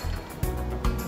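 Water poured into a grinder holding rice, jackfruit, jaggery, grated coconut and cardamom for Mangalorean jackfruit appam batter: a short, soft, faint splash and gurgle.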